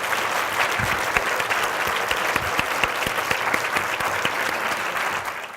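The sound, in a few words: audience applause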